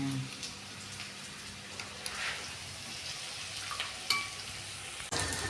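Onion and ginger roast in a pan with a soft, continuous sizzle and occasional faint clinks of stirring, heard fairly quietly without speech.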